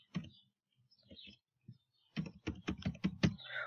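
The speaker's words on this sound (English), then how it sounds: "let's type hello" Quiet keystrokes on a computer keyboard, a few scattered clicks followed by a quick burst of about seven taps in fast succession, close and soft.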